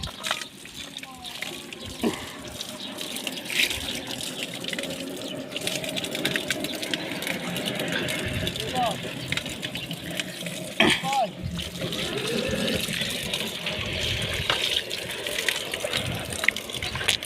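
Icy snowmelt from the mountain runs steadily into a water tank at a remote Russian border post, a continuous close trickling gush with someone speaking over it.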